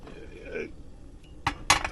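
A pan set on the stove inside a camper van during a rain squall: two sharp metallic clanks in quick succession after a soft murmur.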